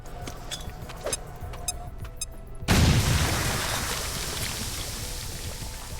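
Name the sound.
grenade explosion in the video game XCOM: Chimera Squad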